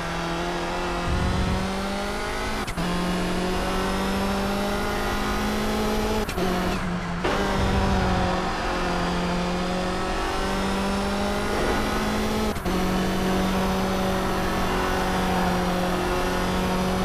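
Race car engine in the Toca Race Driver 3 video game holds a steady high drone, with sharp gear-change blips and a brief dip and surge as revs climb again, loud and continuous.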